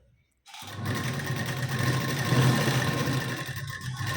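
A sewing machine stitches the cross strips of a blouse piece and its lining, running steadily and fairly loud for about four seconds after a brief silence, alone without talk.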